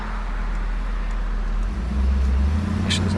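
A 1979 Hurst Olds pulls away from a stop, its engine rumble low and steady from inside the car, then swelling a little as it gains speed, with no voices.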